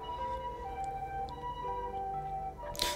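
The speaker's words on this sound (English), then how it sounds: "The ambulance is here." An ambulance siren wails steadily in a visual novel game, its rising and falling tones sustained throughout at close, loud level over a low rumble, ending with a brief burst of noise.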